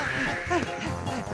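A cartoon bird from the children's show Bananas in Pyjamas squawks in a few short, nasal, honking calls that run close together over a busy background.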